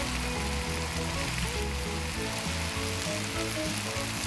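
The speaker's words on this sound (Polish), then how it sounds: "On się smaży, super." Food sizzles in a frying pan in the video game Cooking Simulator, giving a loud, continuous crackling hiss over a rhythmic musical backing, with no talking.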